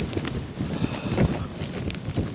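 Gale-force wind buffets a wild camp on a slope at Rannerdale Knotts, a continuous loud roar and rumble with gusty surges battering the microphone throughout.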